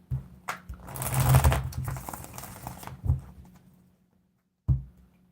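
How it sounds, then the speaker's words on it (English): A deck of tarot cards gets a quick shuffle, with a soft papery riffle and rustle that builds for a couple of seconds and then fades, followed by two short crisp snaps, all close and quiet. "Get a quick shuffle."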